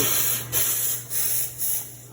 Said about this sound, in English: how to steam milk